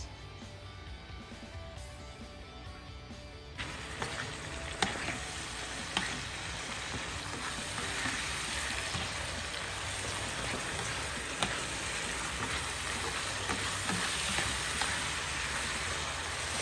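Seafood hits a hot pan for guisadong miki, a Filipino sautéed noodle dish, and bursts into a loud, steady sizzle and crackle that lasts to the end after a quieter opening.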